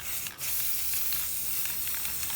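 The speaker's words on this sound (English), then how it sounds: "You spray in a well ventilated area, of course." A spray can hissing in one steady, close burst that runs almost the whole time, with a short break near the start.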